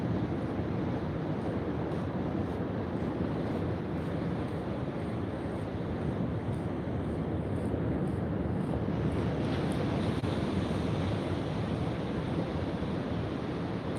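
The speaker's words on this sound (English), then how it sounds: "the rocks are getting gobbled up by the waves" Ocean waves break on shoreline rocks in a low, steady roar of surf, heard faintly from a distance with buffeting wind noise on the microphone and no voices.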